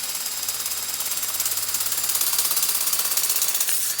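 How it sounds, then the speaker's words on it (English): A power drill running in reverse drives a homemade biochar grinder, whirring steadily with a rapid, ratcheting mechanical chatter that grows slightly louder, running continuously without speech. "so I reverse my drill, and I just run that"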